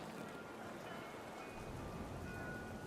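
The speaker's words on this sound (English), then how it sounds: "The rain came down in buckets then," In the video game What Remains of Edith Finch, steady rain hiss fills the scene, a dense even patter of drops with a low rumbling undertone, continuous and moderately loud throughout.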